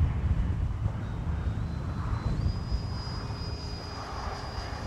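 FMS Viper RC model jet flying past slowly with landing flaps down, its steady engine roar filling the air with a faint whine that rises in pitch, and no talking.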